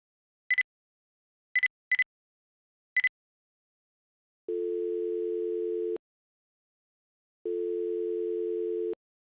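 Video phone tones in the Planet of the Apes PC game: four short high beeps, then two long steady low dial tones, clean and alone with no talk.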